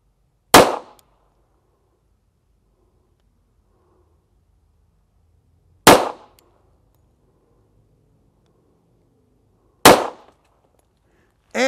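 A D&L Sports .45 ACP pistol with a 4-inch barrel fires three separate shots several seconds apart, each a sharp close crack with a quick decay, and near silence fills the gaps between them.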